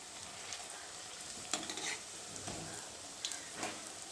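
Bengali onion fritters (peyaji) fry in hot oil, a continuous close bubbling sizzle with occasional sharp crackles and stirring clinks, no voices.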